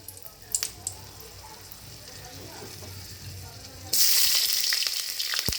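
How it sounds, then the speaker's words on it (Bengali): Cinnamon and cardamom crackle softly in hot oil in a pan, then the sizzle swells into a loud, steady, close hiss that lasts to the end. "এবার আমি দারচিনি দিয়ে দিলাম, এলাচটা দিয়ে দিলাম ফাটিয়ে,"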